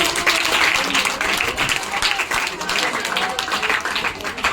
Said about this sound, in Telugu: ఒకసారి చప్పట్ల ద్వారా చేతులు పైకి